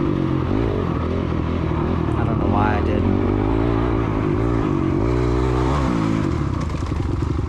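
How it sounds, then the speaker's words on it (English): A dirt bike engine revs hard in second gear during a woods race, a loud, steady, buzzing drone that runs the whole time under a rider talking close to the mic. "Second gear, revving it out there."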